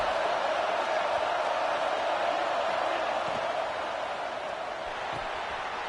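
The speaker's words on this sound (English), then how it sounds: "The Tide crowd rolling noise down on the Saban field on third down." A steady, dense roar from a big football stadium crowd at Saban Field, a continuous broadband wash of voices that holds level throughout, heard at a distance with no distinct calls standing out.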